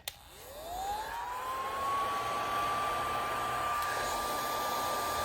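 A small motorized fan whirs up to speed and holds a steady, slightly loud whine, close by.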